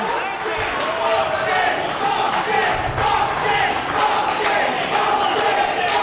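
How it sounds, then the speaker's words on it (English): A wrestling crowd at a 3PW event reacts loudly to a letter signed by Shane Douglas, a sustained roar of shouting and jeering voices that fills the arena for several seconds. "And the crowd saying what their opinions on Mr. Douglas"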